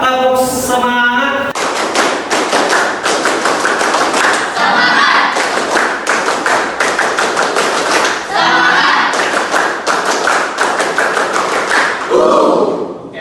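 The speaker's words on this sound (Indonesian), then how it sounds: "mari kita lakukan tepuk semangat" Classroom group clapping chant performed by teacher and students: fast, rhythmic handclaps in steady patterns for about ten seconds, with voices chanting along.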